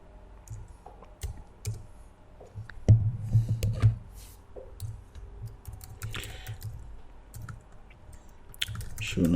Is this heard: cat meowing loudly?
no